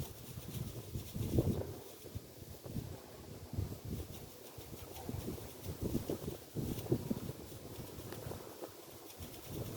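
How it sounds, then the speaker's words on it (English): Wind gusting across the microphone outdoors during a beehive inspection, a steady low rumbling buffet with irregular louder gusts throughout, no talking. "I don't like the wind."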